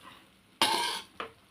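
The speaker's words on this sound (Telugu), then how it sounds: "ఇదిగోండి ఎగ్ రైస్, ఇంకా కొంచెం వేగితే అయిపోద్ది" Egg fried rice in a pan gives a sudden close burst of sizzling as it is stirred, about half a second long, then a shorter second scrape and hiss, with no talk.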